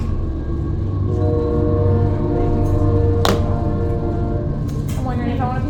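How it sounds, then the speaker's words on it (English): A train passes outside a classroom, its steady low rumble loud throughout with a sharp clank midway and the horn's tonal blasts sounding near the end. "That train has been like coming through every day this week at this time."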